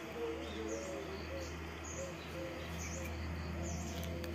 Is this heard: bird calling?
yes